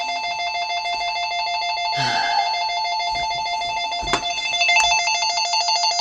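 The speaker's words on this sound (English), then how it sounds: "Nothing feels better than taking out the battery out of a phone for being so damn loud." A mobile phone rings loudly and steadily with a bright electronic ringtone, while brief handling knocks and rustles break in over the ringing.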